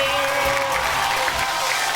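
A studio audience at a Marathi television game show applauds the winners, with dense continuous clapping at a steady level under a faint hum.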